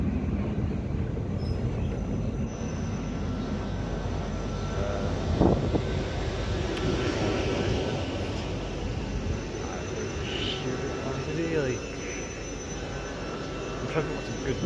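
A ScotRail Class 334 electric train pulls slowly into a station, giving a steady low rumble and hum that holds evenly throughout, with faint squeaks and clunks over the top.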